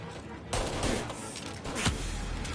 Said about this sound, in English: Oh yeah, the Tommy gun.